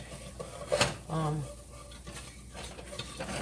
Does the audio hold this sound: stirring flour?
yes